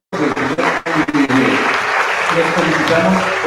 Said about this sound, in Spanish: Brindemos un fuerte aplauso para el cuadro de honor